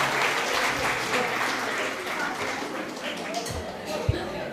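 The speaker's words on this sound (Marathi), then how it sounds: "या साऱ्या कलाकारांसाठी एकदा जोरदार टाळ्या होऊन जाऊ" A live audience applauds the accompanying musicians, harmonium and dholki players, at a literary gathering; a steady, dense wash of clapping fills the stretch from start to end at moderate loudness, with a few sharper claps near the close.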